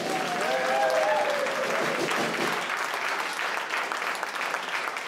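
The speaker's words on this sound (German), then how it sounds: "Also großen Applaus an den Ebi." Concert audience applauding at a small blues and rock festival stage, steady loud clapping with some cheers and whistles throughout, a brief whistle-like tone early, sustained without pause.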